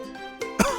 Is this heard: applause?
no